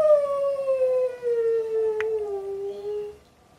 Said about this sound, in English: So making very annoying whiny noises.